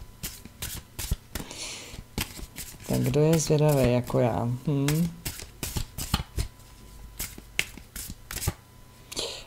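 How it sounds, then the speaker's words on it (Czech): Tarot-style cards are shuffled by hand in repeated crisp riffling bursts, close and fairly loud, with someone speaking briefly partway through. "já tady používám své karty jak nahoře, tak dole, takže já si je zamíchám"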